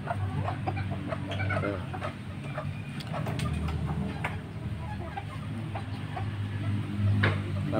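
Ornamental chickens, chochin and serama breeds, cluck softly in a coop with scattered short calls and clicks over a low steady background hum, moderately distant and fairly quiet.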